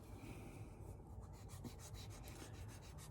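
Quiet, rhythmic back-and-forth rasping of a sanding block on leather, several quick strokes in a row, close up with no talking.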